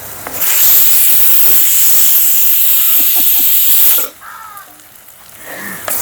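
A pressure cooker whistle releasing steam on the stove, a loud, steady, sharp hiss that runs for about four seconds and then cuts off abruptly, leaving quieter kitchen sounds.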